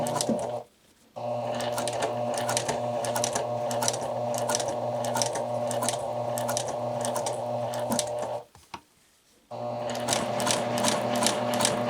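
A sewing machine stitching bias tape as a neckline facing runs in a fast steady whir, stopping briefly twice before resuming, close and loud.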